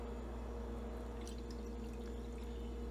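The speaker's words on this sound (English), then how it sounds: "We're gonna pour in the liquid and shake it up." Pickling liquid pours over sliced onions in a mason jar, a soft continuous trickle and splash sitting faintly over a steady low hum, with no one speaking.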